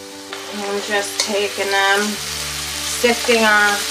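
Clams and hand-cut potatoes fry in oil heated to a medium-high setting, a steady close sizzle that runs throughout while someone speaks over it.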